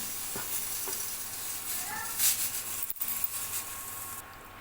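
Cut pieces of dried fish fry in a hot kadai with a steady, close sizzling hiss, broken by a few light clinks and stirring scrapes.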